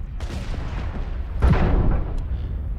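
Heavy cannon fire from a mech in Mechwarrior Online, a booming low shot at the start and a louder blast mid-way, followed by rumbling decay.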